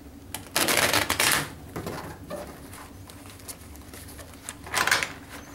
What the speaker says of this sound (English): and they do it again. They give it one shuffle.